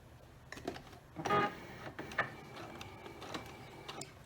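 Quilt seam pieces for a drunkard's path block are stitched on a sewing machine at a scant quarter-inch allowance, with short, close mechanical bursts of stitching that start and stop in brief runs.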